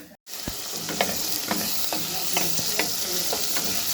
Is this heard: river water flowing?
no